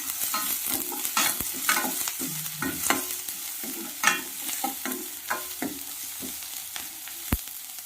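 Steady sizzling of garlic sautéing in hot oil, broken by the scrape and clatter of a spoon stirring the pan, with no voices.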